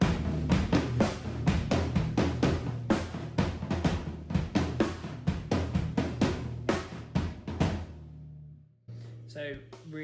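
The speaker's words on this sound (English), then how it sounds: "So you might want to then play on the floor toms or the toms instead." A drum beat played on floor toms and toms, with dense, steady hits driving a full rhythm for about eight seconds before stopping; a voice follows briefly at the end.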